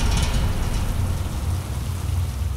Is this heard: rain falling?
yes